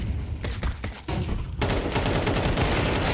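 Gunfire in a Counter-Strike match on Dust 2: scattered close shots give way to a dense, continuous burst of rapid automatic fire that fills the second half.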